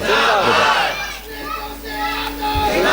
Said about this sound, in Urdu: جو نعرے لگا رہے ہیں اور جو نعرے کا جواب دے رہے ہیں